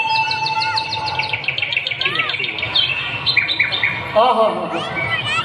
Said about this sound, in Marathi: अशी सुंदर पहाटे मधला तो पक्ष्यांचा किलबिलाट,